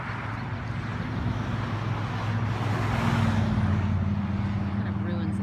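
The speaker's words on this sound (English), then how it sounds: "And I'm so bummed that there's cars driving around." Steady traffic rumble from cars driving past nearby, a continuous low wash of road noise that swells slightly midway, heard outdoors where small birds are being watched.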